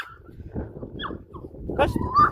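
A dog whimpers close by in short high whines and yips, while a person talks over and between them.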